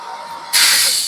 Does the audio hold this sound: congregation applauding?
no